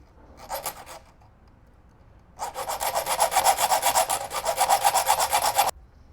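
A large hand saw cuts grooves with rapid, rasping back-and-forth strokes, close and loud: a brief burst first, then a long run of quick, even strokes that stops abruptly.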